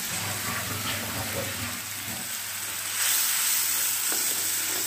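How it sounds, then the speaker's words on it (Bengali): Spice masala with ginger sautés in a pan, a loud continuous sizzle and hiss close by, with stirring scrapes and a surge of frying noise partway through. "তো এইদিকে মশলা কষানো হচ্ছে"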